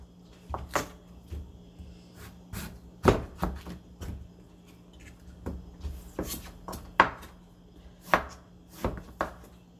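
Beetroot cut into bite-sized pieces with a knife on a board for pickled beet, a run of sharp, irregular chops heard up close with no talk.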